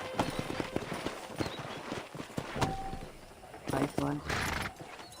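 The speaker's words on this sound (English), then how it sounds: "it's your horse" Horse hooves clip-clop in the Red Dead Redemption video game, a steady rhythmic walking gait at moderate distance, mixed with brief speech and a short whinny-like tone.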